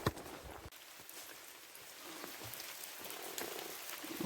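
Steady rain falls on a small hiking path of the GR 65 pilgrimage route descending toward Conques, a faint, even hiss of drops with no voices.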